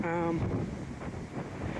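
Gusty wind buffets the microphone with a low rumbling roar on the trail to Wasson Peak in Saguaro National Park; a brief tonal voice-like sound appears at the very start.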